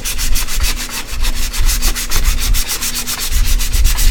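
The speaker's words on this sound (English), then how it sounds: "Now that's a very different sandpaper sound" Sandpaper rubs back and forth in rapid, even strokes, a loud, close, rhythmic scratching with no voices during the build of a glass construct.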